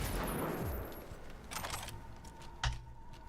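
Tech guns firing in Cyberpunk 2077 Phantom Liberty, a few sharp electronic shots and clacks spaced apart, the last one punchier, over a low ambient hum.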